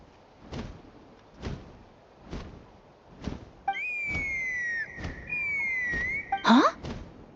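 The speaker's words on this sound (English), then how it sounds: "That sounded like a whistle." Soft, evenly spaced thumps lead into a sustained, wavering whistle tone from the video game Genshin Impact, lasting about two seconds before a sharp burst cuts across the end.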